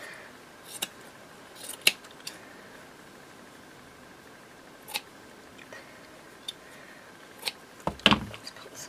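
Scissors trimming paper snippets for a Christmas craft: sparse, faint, isolated snips and small clicks scattered across a quiet room, with a sharper closer cut near the end.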